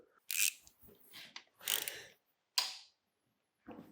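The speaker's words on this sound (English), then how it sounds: "Now we need to loosen that swing arm bolt." Ratchet working on a tight swing arm bolt of a KTM 790/890 Adventure motorcycle, a few short bursts of metallic clicking and scraping separated by silent pauses, close up with no talk.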